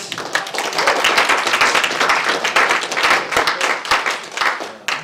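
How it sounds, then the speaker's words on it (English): A round of applause from an audience at a website talk, loud and close, with many hands clapping in a dense stream and a few sharp individual claps standing out near the end. "let's give another round of applause, guys."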